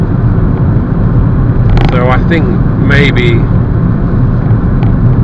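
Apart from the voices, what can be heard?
road noise inside a VW Jetta driving at 50 mph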